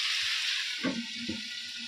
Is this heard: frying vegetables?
yes